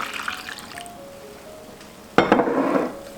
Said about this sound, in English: Pour some of this into the glass measuring cup.